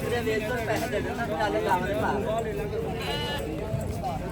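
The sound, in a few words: goat bleating at a livestock market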